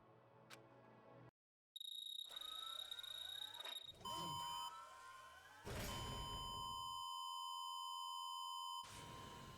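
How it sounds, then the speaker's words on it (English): Electronic beeps and synthetic sine tones in Danganronpa's grand finale: a sequence of steady pitched beeps and chirps, loud and clean, broken by a brief silence, with no speech. "Beep."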